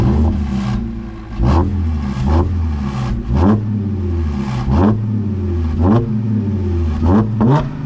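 Supercharged car with an exhaust clamp rattling, heard from the rear: repeated sharp throttle blips rising and falling over a throbbing idle, loud and close, roughly eight revs in a row.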